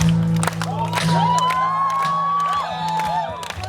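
A festival crowd at a live music show cheers and whoops loudly, with scattered clapping and high shouts over sustained crowd noise and a low musical drone.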